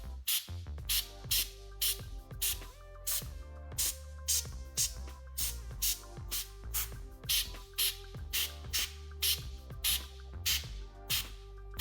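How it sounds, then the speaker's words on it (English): Compressed air sprays in short, sharp bursts, about twenty quick hisses in a steady rhythm, blowing dust out of a noisy MacBook's body up close, with a faint hum underneath and no talk. "I'm gonna spray the whole entire body now."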